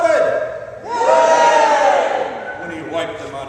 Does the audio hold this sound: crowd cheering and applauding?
yes